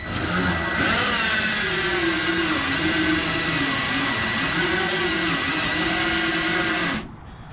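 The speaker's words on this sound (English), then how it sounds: "now we'll go ahead and start cutting into the 2x4" A power drill whines loudly with a hole saw grinding into a wooden 2x4, its pitch wavering under load for several seconds before cutting off abruptly.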